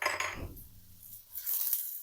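Vegetables seasoned with white and black pepper powder are stirred in a pan, giving a few sharp metallic clinks and scrapes of a spoon against the pan early on, then a quieter stretch and a second burst of scraping.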